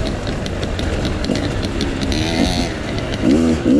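Dirt bike ridden along a single track trail at a ranch fall ride, its engine droning continuously and loudly close by, with pitch rising and falling as the rider works the throttle.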